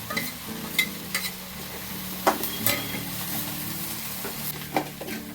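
A spatula stirs a veg manchurian mixture thickened with cornflour in a pan, giving repeated scraping clinks over a steady low sizzle, close and moderately loud, with no talking.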